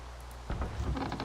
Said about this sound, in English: I don't know why it's raining, because it's not like I didn't sleep that long ago.